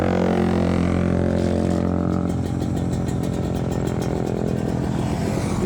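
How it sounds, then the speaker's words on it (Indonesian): A Kawasaki Ninja RR two-stroke motorcycle engine runs close by, a loud, rough, buzzing idle that stays steady and continuous with a slight shift in tone partway through. "Memang mesin 2 tak itu lebih kasar daripada mesin 4 tak."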